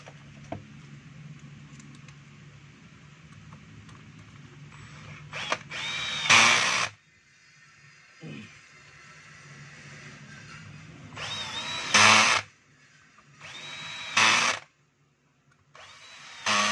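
A power drill drives a screw into a DeWalt 7-inch angle grinder during repair. It comes in several short, loud whirring bursts separated by quiet gaps and light handling clatter, and no voices are heard.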